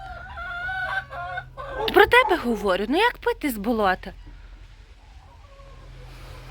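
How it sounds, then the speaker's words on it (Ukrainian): Chickens and a rooster in a coop cluck in a quick, close run of calls, with a person speaking just before and a quieter tail afterward. "Люблю, коли випускаєш, їх перший виходить півник, і тоді за ним виходять ці курочки."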